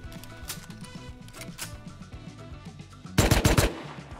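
Gunfire in the video game Rust: scattered single shots and taps, then a loud, fast burst of automatic fire near the end, with no talk over it.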